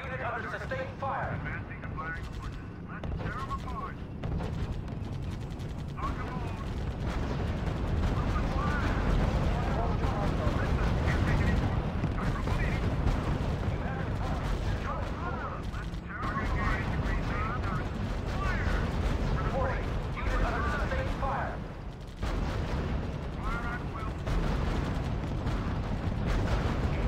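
Sustained battlefield gunfire mixed with deep artillery rumble from the WWII strategy game R.U.S.E., a continuous loud barrage with radio-style voice lines speaking over it throughout.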